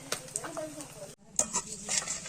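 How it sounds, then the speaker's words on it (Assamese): Fish sizzles and spits in a hot frying pan up close, a busy crackle that cuts out for a moment and then returns with sharp pops. "মাছ ফ্ৰাই আছে।"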